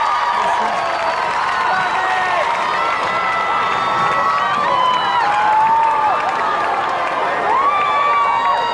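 A large crowd roars and cheers continuously at the Big Brother 3 UK live final in 2002, with high-pitched shouts and screams over a dense, loud wall of noise and scattered applause throughout.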